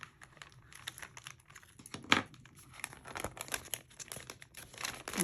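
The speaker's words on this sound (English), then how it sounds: "Peel back this backing" Backing paper being peeled from an adhesive strip while assembling a paper bag mini album, giving close, soft crinkling and tearing rustles with small scratchy bursts and one sharper rip, without any talking.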